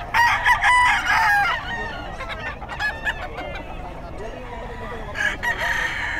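Rooster crowing at a pet market in Bocaue, strong harmonic calls opening loudly and recurring near the end over a busy, noisy background of clucks and bustle.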